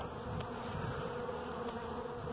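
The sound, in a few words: bees flying around a hive entrance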